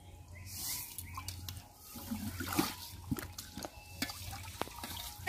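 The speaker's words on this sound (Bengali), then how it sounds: "চালটাও ধুয়ে নেব।" Rice being washed by hand in water outdoors, with sloshing, trickling and dripping sounds at close range, irregular splashes and light background noise.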